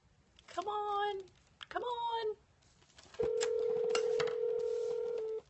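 Telephone being dialed for a call: two short bursts of warbling dial tones, then a long steady ringback tone lasting a couple of seconds, clear and close.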